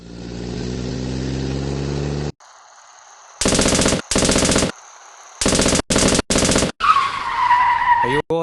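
Bursts of German machine gun fire rattle loudly in a Lego WW2 stop-motion battle, several rapid volleys separated by short pauses, following a low rumbling engine and ending with whooshing, skidding effects.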